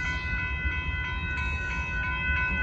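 An Amtrak Texas Eagle passenger train, running late southbound, rolls steadily past, a continuous loud rumble and rail noise with a sustained high tonal whine and no voices.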